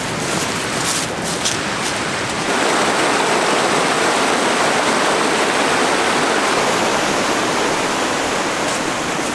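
Creek water rushes steadily and loudly at a deep crossing on an autumn backpacking trail in the Smoky Mountains. It forms a dense, unbroken wash of noise with no voices.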